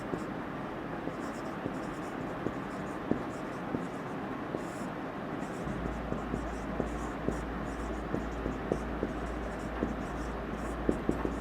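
Marker or chalk writing on a board during a Hindi-language maths lesson on squares and square roots, heard as faint scratchy strokes and small taps recurring through a steady low background hum.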